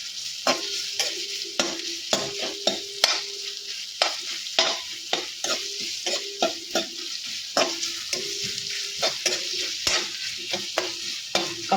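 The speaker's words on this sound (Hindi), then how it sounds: "थोड़ा फ्राई कर लेते हैं।" Food fries in an oversized kadhai while a spatula scrapes and clacks against the metal in a steady, repeated rhythm over a constant loud sizzle, close up and with no voices.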